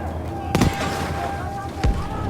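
Two sharp explosive booms in Battlefield V on PS4 Pro, a second or so apart, burst over a constant electronic game soundtrack with a low rumble beneath.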